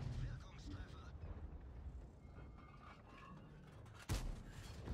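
A tank cannon in the online game World of Tanks fires a single sharp, loud shot near the end, heard over continuous talk and a steady rumble of in-game background noise.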